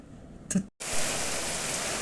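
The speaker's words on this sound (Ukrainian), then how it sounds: "ну він дуже сильний, дуже сильний дощ" Heavy rain pours down in Zaporizhzhia as a steady, loud broadband hiss, with a brief louder burst and a short dropout before the downpour resumes evenly.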